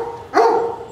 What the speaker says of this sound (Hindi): वो देखो भौंकने लग गया